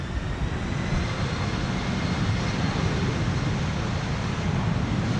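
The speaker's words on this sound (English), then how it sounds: "One of the two Embraer 190s is taking off, you can hear it." Embraer 190 jet taking off at Amsterdam Schiphol Airport, a broad, steady engine roar with rumbling low end heard from a distance, continuous and without talk.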